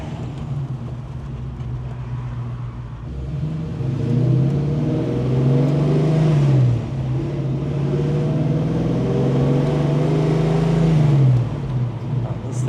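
A 1965 Ford Mustang Convertible with a 363 cubic inch crate engine idles with a low, throaty exhaust rumble, rising twice in smooth revs before settling back, steady and close.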